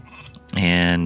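A single sheep bleats in Northgard, a loud, close, sustained wavering cry that cuts in halfway through after quieter game ambience.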